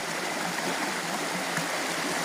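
A river stream in Thai forest near a waterfall rushes steadily and close by, a dense unbroken wash of flowing water with no talking over it.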